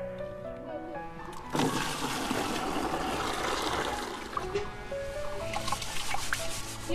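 Millet grain is sloshed and rinsed in water up close, a sudden rush of splashing that settles into steady swishing and trickling.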